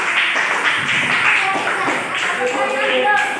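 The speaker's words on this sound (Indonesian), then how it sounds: "tepuk tangan untuk kelompok ini" A classroom group claps together in applause, giving a dense, even patter of hand claps that lasts about three seconds.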